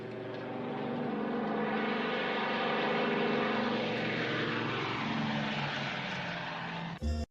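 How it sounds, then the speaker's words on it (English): A bomber aircraft taking off in the video game Judgment roars steadily with propeller engine drone, loud and sustained as it climbs, before cutting abruptly into a brief burst of other noise at the end. "Tell that bomber to take off."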